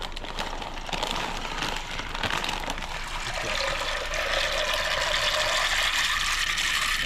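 Tap water runs steadily into a container while food is washed before soaking, a moderate continuous splash that shifts in tone partway through, with no talking.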